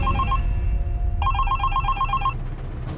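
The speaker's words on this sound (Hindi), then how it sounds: "ये तेरा फोन बज रहा है?" Telephone ringing indoors, a bright electronic bell trilling in two quick bursts separated by a short pause, loud and close, with no voices over it.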